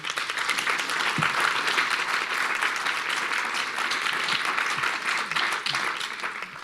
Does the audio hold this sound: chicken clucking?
no